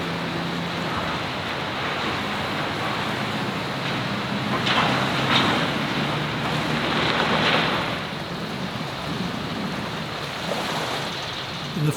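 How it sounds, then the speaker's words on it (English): Strong wind blowing at the coast at Cape Jervis, a continuous broadband roar that swells in gusts, loud and steady throughout with no voices. "There were strong winds most of the time we spent at Cape Jervis."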